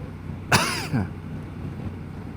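A single sharp cough, followed by a short second cough, close to the microphone against a quiet windy background outdoors in cold rain.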